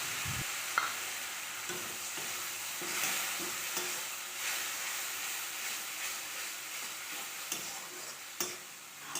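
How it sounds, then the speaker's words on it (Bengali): Spice paste fries with browned onions in a pan for an egg curry with malai, a continuous close hiss broken by occasional stirring scrapes and clicks. "পেঁয়াজটা এরকম লাল করে ভেজে তার মধ্যে মশলা বাটাটা দিয়ে দেবো"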